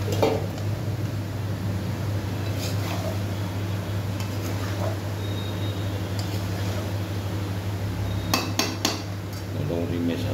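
Potatoes and taro being stirred with spices in a cooking pot, giving steady metal-on-metal scraping and utensil clatter over a constant low hum, with a few sharper clinks near the end.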